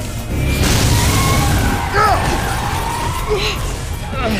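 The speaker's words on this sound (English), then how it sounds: "Grenade!" In the Binary Domain shooter, a grenade goes off amid ongoing combat, a heavy boom rising out of continuous loud battle noise, with electronic chirps and faint voices in the mix.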